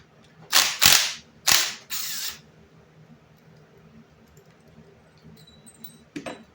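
Half-inch bolts and lock tabs being taken off a Ford 9-inch rear end, heard as four sharp, loud metallic bursts close together, then quiet handling with faint clinks and one more snap near the end.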